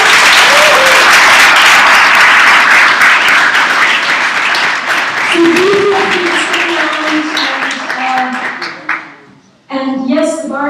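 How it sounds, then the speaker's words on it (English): Audience applause after a film screening discussion, loud dense clapping that gradually thins out with scattered voices rising over it, then cuts to a brief burst of other sound. "One big round of applause."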